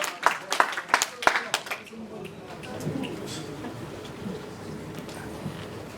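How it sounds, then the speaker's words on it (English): An audience claps at a performance and closing ceremony, with several sharp, close claps at first that give way to softer, scattered clapping and low crowd murmur. "Clap it up, clap it up."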